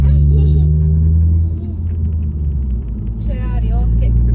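A motor vehicle crawls in first gear through heavy Diwali traffic near Electronic City, its engine a loud, steady low rumble throughout, with a brief higher rattle toward the end.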